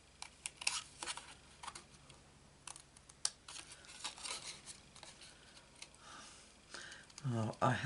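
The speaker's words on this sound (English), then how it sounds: "grab our scissors and cut out this" Scissors snip through paper as a stamped butterfly is cut out, giving quiet, irregular clicks and crisp cuts at close range before a voice briefly speaks at the end.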